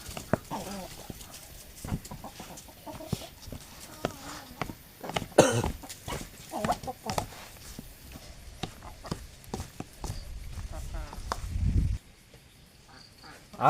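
Chickens cluck intermittently close by, with occasional coughing and throat clearing from a person and assorted brief knocks mixed in.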